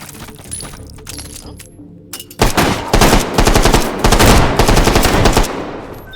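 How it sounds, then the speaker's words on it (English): Rapid automatic gunfire in the VR shooter H3VR, Take & Hold mode, erupts loud and close in sustained bursts after quieter clicks and metallic handling sounds of a weapon. "who else was shooting at me there?"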